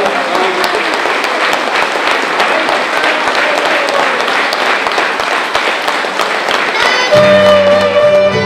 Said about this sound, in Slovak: Ďakujeme krásne, veľký potlesk